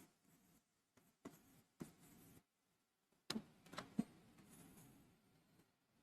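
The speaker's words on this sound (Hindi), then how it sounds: "चलो एक चीज लिखता हूं" Pen or chalk writing on a board during a chemistry lecture on hydrocarbons, heard as several short scratchy strokes separated by pauses, with a couple of sharp taps near the end, fairly faint and with no talk.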